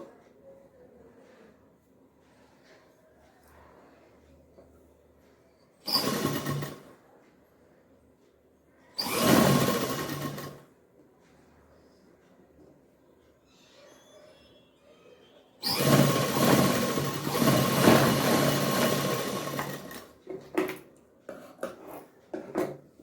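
A sewing machine stitching a blouse whirs in three close bursts: two short runs and then a longer run of several seconds. Quiet speech and handling noises fill the pauses between them.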